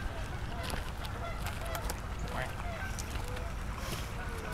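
A duck being fed bacon honks repeatedly, with several short calls over steady outdoor background noise while people talk nearby.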